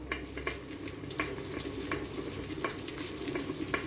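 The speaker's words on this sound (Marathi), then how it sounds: "तर आता वाटून घेऊया असा एक तांबे घ्यायचा तांब्याने वाटायचं" Hot puran, a sweet lentil filling for puranpoli, is pressed and rubbed through a sieve with a copper pot, giving a soft, continuous scraping and squishing with repeated gritty strokes, quiet and close.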